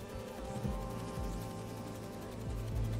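Bee drones buzz in a Central Park scene of the game Spider-Man 2, a continuous insect-like drone with small wavering pitch swoops, fairly faint and alone.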